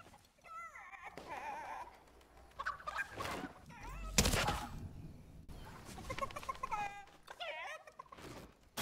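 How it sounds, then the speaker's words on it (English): Game chickens in Fortnite cluck and squawk in several bursts through a busy in-game soundscape, with a loud burst of game noise in the middle. "Feral chickens on the run again."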